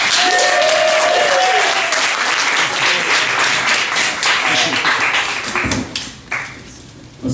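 Comedy club audience at a live stand-up night in Richmond, Virginia applauds a comedian being introduced, dense clapping and cheers that build, then thin out to scattered claps and a few voices toward the end.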